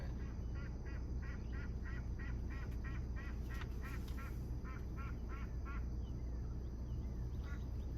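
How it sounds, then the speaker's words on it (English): Geese honk in a rapid series of calls that thin out toward the end, with a steady low hum underneath. "that Goose thinks we're talking to it."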